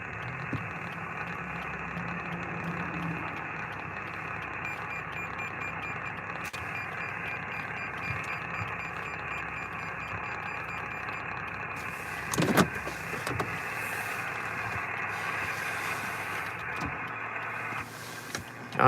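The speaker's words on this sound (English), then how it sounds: "Oh, it was the car noise." A parked car's engine idles beside a mobile amateur radio station during an outdoor park activation. Its steady, low hum runs under radio static and tones, then stops shortly before the end.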